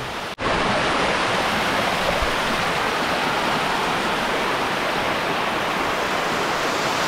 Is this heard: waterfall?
yes